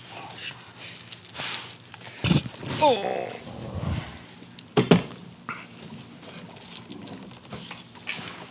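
A dog whimpering and playing with a squeaky toy indoors, with short high squeaks and soft whines at close range mixed with jingling tags and rustling, while a person talks and exclaims over it.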